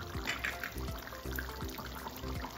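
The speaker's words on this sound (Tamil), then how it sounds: "தட்டைப்பயிர் சேர்த்துடலாம்." Boiled black-eyed peas go into a pot of simmering pumpkin curry, heard as soft wet plops and liquid sloshing repeated at a steady rhythm, close but quiet.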